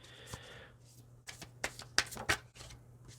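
Tarot cards are shuffled and drawn during a reading, with a soft riffle at the start followed by several quick, crisp card flicks and slaps at close range, while a voice speaks quietly.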